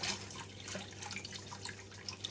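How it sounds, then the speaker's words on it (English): Water trickles into lemon meringue pie filling, a soft, steady splashing pour with light dripping bursts, quiet and close, with no voices over it. "So I'm going to add the rest of the water."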